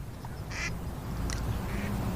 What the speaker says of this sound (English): there's lots of ducks down here at the Barrie Marina